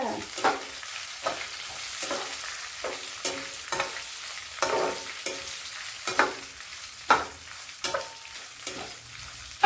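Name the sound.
mustard and fenugreek seeds frying in oil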